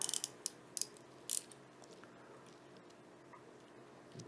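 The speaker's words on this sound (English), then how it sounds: "put that on the ratchet." A small hand ratchet with a 9/32 socket clicks in short, quick bursts during the first second and a half. Only faint mechanical noises follow in a quiet room.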